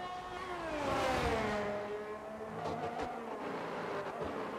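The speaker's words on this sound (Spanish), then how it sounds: "Uy, cómo suena ese coche." Race car engine in the F1 22 video game, a high, buzzing whine that climbs in pitch through the gears, swells loudest early on, then dips and rises again while running continuously without talk.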